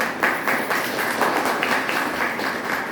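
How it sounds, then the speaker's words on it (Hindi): Steady, dense applause from a large audience at an Ayurveda talk, a continuous wash of many hands clapping for about three seconds with no break. "एक बार ताली होना चाहिए आयुर्वेद के लिए।"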